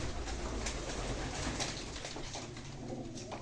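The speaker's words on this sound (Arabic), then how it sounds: "الحمام موجود دلوقتي يا جماعة" Pigeons coo in a loft, soft low murmuring calls over a steady background hum, faint and continuous throughout.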